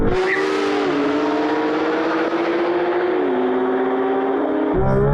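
A Porsche GT3 RS and a Maserati MC20 launch together in a drag race, their engines roaring loud and sustained at high revs as they accelerate hard side by side, with no speech.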